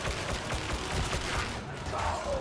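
Rapid bursts of lasgun fire from Warhammer 40k: Darktide, a dense, steady crackle of energy-weapon shots with faint voices underneath.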